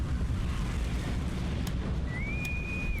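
Bombing explosions in the strategy game Hearts of Iron 3 rumble as a steady, dense low roar throughout, with a thin whistling tone rising near the end and a couple of brief sharp pops.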